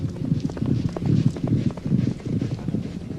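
Racehorses' hooves drum rhythmically on the gallops during early morning work, a steady clip-clop at moderate distance with no talking.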